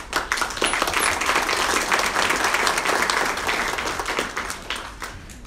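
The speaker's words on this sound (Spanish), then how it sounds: "brindarles un fuerte aplauso a los docentes de la Orquesta Sinfónica de San Pablo del Monte" A crowd at an event honoring the teachers of the San Pablo del Monte Symphony Orchestra breaks into loud, sustained applause that swells early and then gradually fades.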